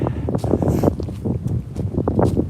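Gusty wind buffets the microphone with low, rumbling roar that rises and falls throughout, close and fairly loud, on a forest walk in the Scottish Borders.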